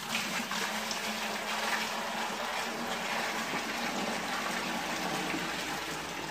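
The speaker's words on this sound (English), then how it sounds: "It's flowing into the tank." Water pours steadily into the tank of a Rockler steam generator for a steam box, a continuous close gushing fill sound with no talk.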